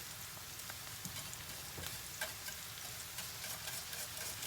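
Chopped onion and mushrooms fry and stew in a pan, giving a faint, steady sizzle with occasional soft stirring scrapes and no talk.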